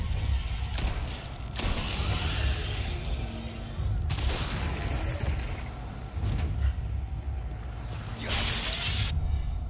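Glass smashing in the Resident Evil 4 remake, a loud crash and shatter that comes in bursts over continuous game noise and rumble.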